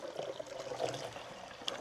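Liquid poured into a cooking pot during Thai cooking, a soft brief trickling pour with faint splashes, fairly quiet and alone without talk.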